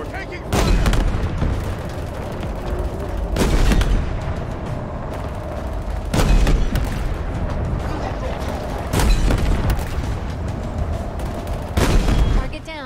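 Heavy gunfire and explosive booms in a Halo Infinite campaign battle, with repeated loud bursts roughly every two to three seconds over a constant rumble of combat noise.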